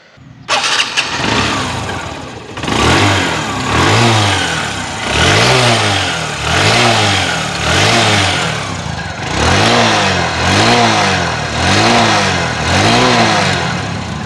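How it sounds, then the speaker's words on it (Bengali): A second-hand TVS Metro 100cc motorcycle starts up close by and runs loud, its engine revving repeatedly in steady rising and falling surges that come roughly every second. "গাড়ির সাউন্ড আপনারা শুনতে পারলেন, খুবই সুন্দর সাউন্ড আছে"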